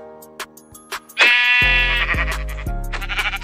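Goat bleating in Minecraft, a few short clicks and then a loud wavering bleat, followed by deep layered synthetic tones that continue underneath.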